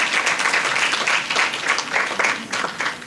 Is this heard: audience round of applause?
yes